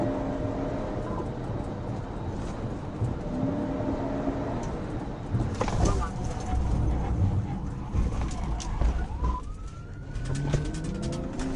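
A police car siren wails through steady street and traffic noise, its rising and falling tone cutting in and out over the rumble of passing vehicles.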